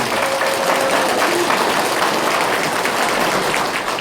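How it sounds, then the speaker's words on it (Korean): Sustained audience applause at a political party campaign office opening, dense and even clapping from a crowd of supporters that fills the whole stretch at a strong, steady level. "공감하시면 한번 박수 한번 쳐주세요."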